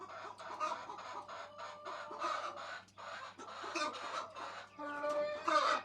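A hen sitting in a roll-out nesting box clucks in a close, steady run of short murmuring clucks that ends in a louder, drawn-out squawk.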